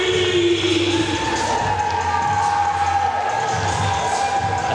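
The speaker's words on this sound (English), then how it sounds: "showing respect to the crowd that are cheering him" An arena crowd cheers a fighter at a King of the Cage mixed martial arts event, a sustained loud roar with whistles and shouts rising and holding throughout.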